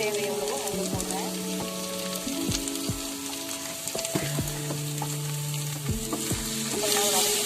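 Paneer egg fried rice with pepper and salt stir-fried in a pan, a steady loud sizzle with repeated scraping stirs and metallic clinks throughout, no talking.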